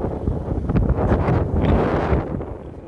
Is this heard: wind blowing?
yes